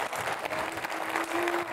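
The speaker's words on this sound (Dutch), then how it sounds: "Nou, inderdaad, een hartelijk applaus voor de plaat." Indoor audience gives warm applause after a poem reading, a brief dense wash of clapping at moderate distance.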